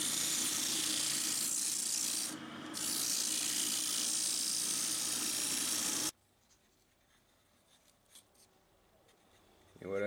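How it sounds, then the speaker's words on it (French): A small wooden bowl spinning on a VEVOR wood lathe is sanded, giving a loud, steady abrasive rasp for about six seconds before it stops abruptly, leaving faint clicks and light handling noise. "Donc je vais venir poncer un petit coup"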